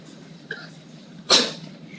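During a school district meeting, a single sharp sneeze bursts out from someone in the room, preceded by a faint short sound against quiet room tone.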